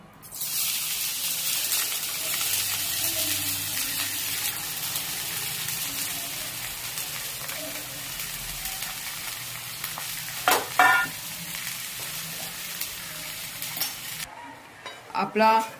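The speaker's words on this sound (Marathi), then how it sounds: "आता आपण पहिल्यांदा कांदा भाजून घेऊया" Chopped onions fry in a kadhai with two spoons of oil on a gas flame, giving a steady broad sizzle throughout, with a few clinking stirs near the end.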